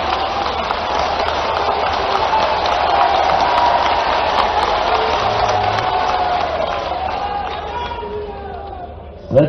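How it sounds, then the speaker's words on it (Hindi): An audience at a state-level panchayat secretaries' conference attended by the chief minister applauds, a long sustained roar of clapping mixed with crowd murmur and chatter that holds steady before a sharp knock at the end. "इतनी बढ़िया तालियां तो यही बजती है"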